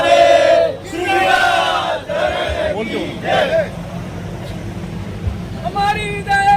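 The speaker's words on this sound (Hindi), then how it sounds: "जोरदार तालियों से अभिनंदन करें विधायक महोदय का" Crowd at a political gathering welcoming a local MLA at a development-works foundation ceremony, loud close shouting and rhythmic chanting in unison, rising and falling in bursts, with no clear clapping standing out.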